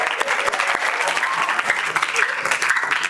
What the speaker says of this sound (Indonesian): Tepuk tangan buat Allah Cipta.